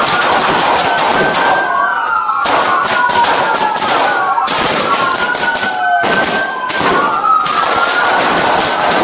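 Police gunfire crackles in a highway shootout beneath a bridge, loud rapid bursts mixed with wailing, sweeping sirens and shouted voices throughout.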